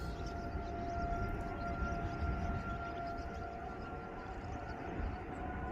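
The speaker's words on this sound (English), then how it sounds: "Sirens is on too." Tornado warning sirens wail in a steady, unbroken drone with faint wind and rumble beneath, holding at a constant level from start to finish.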